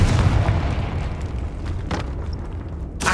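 A Confringo fire spell blast in Hogwarts Legacy booms at the outset, a deep rumbling burst that decays over a few seconds, followed by a sharp crack near the end.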